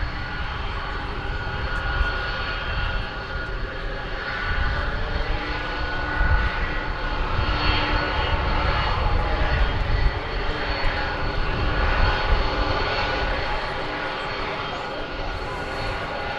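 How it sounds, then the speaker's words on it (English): A jet airliner roars through its takeoff run at Dallas Fort Worth Airport, a loud, sustained engine rumble and hiss heard from the spotting area, with wind noise and some nearby talk mixed in. "It's going to Anchorage, so we should see it take off from this side of the airport."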